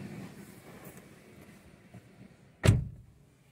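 A single loud, close thud of a Fiat Grand Siena 2021 sedan door shutting, preceded by quiet rustling of someone getting into the car.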